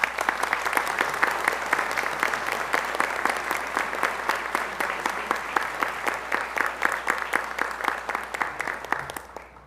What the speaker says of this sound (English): Please join me in applauding these outstanding seniors.